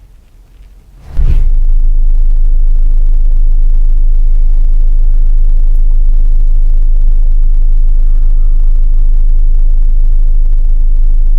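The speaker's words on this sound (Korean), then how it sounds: "이제 시동을 한번 켜보겠습니다." A Kia Carnival (Sedona) engine cranks and catches about a second in, heard from inside the cabin, then settles into a steady, loud low rumble and hum of idling that continues uninterrupted to the end.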